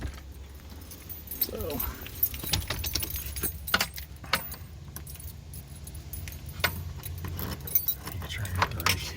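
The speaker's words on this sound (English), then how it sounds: "try to get the right key" Keys jangle up close in repeated bursts while someone searches for the right one at a new apartment door, with a person talking over the metallic clinking.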